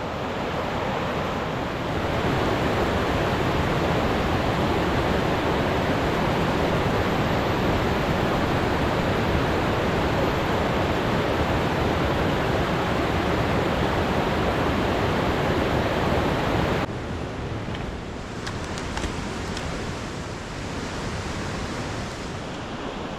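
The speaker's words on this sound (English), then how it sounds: "this is not a big stream. I mean, it's rushing, but that is not wide." A small, narrow mountain stream rushes steadily and loudly close by in a snowy forest, a dense continuous roar that drops somewhat quieter near the end.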